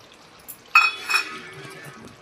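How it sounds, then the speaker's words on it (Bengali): A lid is set down on a pot of mutton kosha cooked with chui jhal, giving a single sharp metallic clatter with a brief ringing tail, followed by faint soft cooking noise. "এখন আমি ঢাকা দিয়ে দেবো কিছুক্ষণের জন্য"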